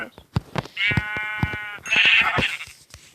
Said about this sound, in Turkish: Koyun çimen yeme sesi.